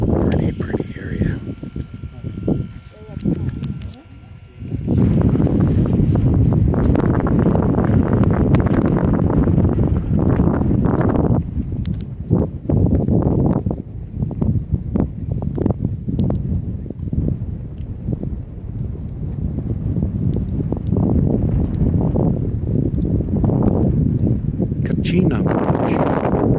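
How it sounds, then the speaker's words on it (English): Loud, gusty wind buffets the microphone outdoors near Bluff, Utah, a continuous roaring rumble that swells and dips over nearly half a minute, with a voice talking faintly beneath it at moments. "Wind was pretty loud there, sorry."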